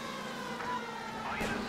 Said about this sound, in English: Wow, there are a lot of sirens,